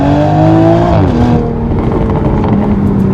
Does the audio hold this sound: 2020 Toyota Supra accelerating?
yes